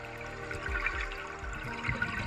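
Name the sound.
bubbles from an open-circuit scuba diver's breathing underwater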